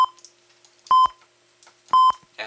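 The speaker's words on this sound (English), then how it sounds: "I'm just gonna mute the alarm then" An alarm at a fusion reactor sounds repeated electronic beeps: a clipped beep at the start, then two loud, steady beeps about a second apart, with quiet gaps between them.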